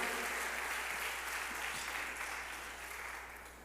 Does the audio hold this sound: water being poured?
no